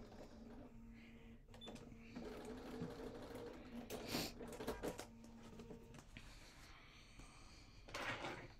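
Sewing machine stitching a Cathedral Windows quilt block, a steady low-level whir running throughout with a few brief clicks and bumps from handling the fabric.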